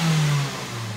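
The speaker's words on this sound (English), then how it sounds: "This sounds like a good engine. Let's see if we can redline that puppy." A swapped engine in a Mazda 3 revving up and then easing back toward idle, a brief close, steady mechanical drone with no talking.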